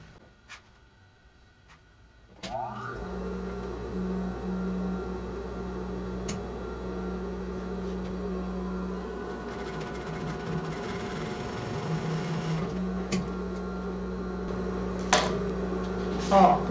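A sewing machine stitches fabric and lining for a zippered pouch, starting after a click with a steady, close mechanical hum and rapid needle rhythm, with occasional taps and handling noises near the end.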